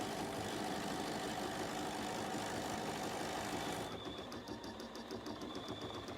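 A BERNINA sewing machine runs a fast, even edge stitch with a steady mechanical whir. It shifts into a sharper, rhythmic needle clatter near the end, fairly quiet and with no voices.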